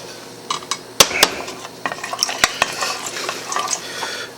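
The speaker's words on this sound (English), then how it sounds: "Alright, get it good and stirred in there" Stirring minced garlic and ingredients for chicken adobo in coconut milk in a metal pot, with irregular clinks and scrapes of a utensil against the pot, close and fairly loud, with no talk.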